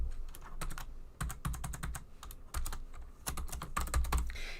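Rapid typing on a computer keyboard, a dense run of close, crisp key clicks in uneven bursts with no talking.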